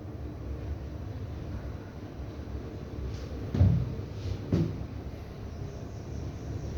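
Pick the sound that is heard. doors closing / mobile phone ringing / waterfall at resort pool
doors closing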